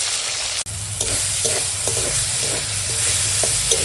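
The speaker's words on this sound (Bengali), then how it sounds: "দিয়ে টমেটোটা ভেজে একদম গলিয়ে নেবো" Tomatoes frying with turmeric and salt in a pan, a steady close sizzle broken by repeated scraping stirs and one brief dropout near the start, with no voices.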